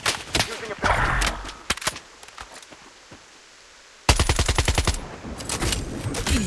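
Gunfire in the video game Blood Strike comes as dense rapid bursts of automatic shots, loud and close, with a quiet pause in the middle before another fast volley.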